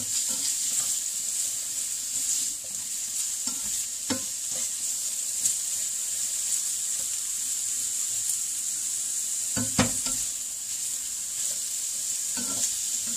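Keto dessert and vegetables sizzle steadily in a pan, a constant hiss broken by occasional scraping stirs, close and fairly loud with no voices.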